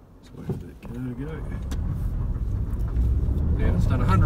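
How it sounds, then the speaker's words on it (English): A passing car rolls by outside a parked 2006 Suzuki Swift Sport, its rumble swelling steadily and growing loudest toward the end, with a voice heard briefly near the start. "Let's wait for that car to go."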